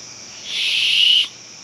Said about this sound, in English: survival whistle. That's cool.